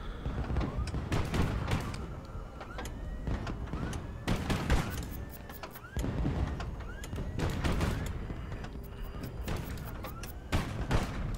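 Rapid bursts of gunfire in the video game Highfleet crackle continuously, with dense repeated shots and heavy booming impacts throughout.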